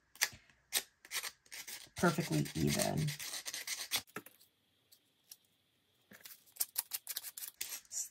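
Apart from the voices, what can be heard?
sandpapering the edges of a sticker on a UV resin badge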